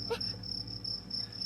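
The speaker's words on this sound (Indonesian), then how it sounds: "Itu suara jangkrik berisik amat sih." A constant shrill trill of chirping crickets holds steady from start to finish, fairly faint, with a short rustle early on and a low hum underneath.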